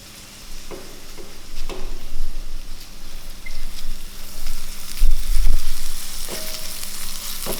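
Spinach pasta with butter and garlic tossed in a hot pan, a steady sizzle broken by a few soft scraping and clattering knocks near the end.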